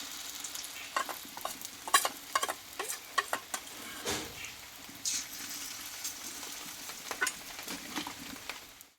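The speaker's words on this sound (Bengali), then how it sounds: "দেখো এখানে কিন্তু আমি দুবারে ডালের বড়াগুলো ভেজে নিলাম" Moong dal fritters fry in hot oil, a steady soft sizzle broken by repeated sharp clicks and scrapes of a utensil, close and moderately loud throughout.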